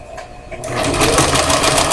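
Sewing machine stitching fabric slowly, a close, loud whirring buzz that starts after a brief quiet moment and keeps running steadily to the end.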